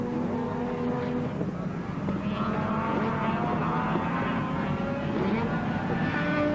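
A vintage rotary-engined race car runs on a circuit during a race, giving a steady, moderately distant engine drone with a slowly shifting pitch, heard alone without voices.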